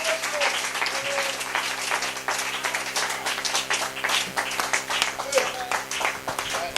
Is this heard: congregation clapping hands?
yes